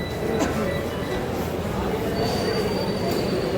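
A Noida metro train rumbles steadily with a dense, continuous roar and faint high metallic whine, close and loud throughout.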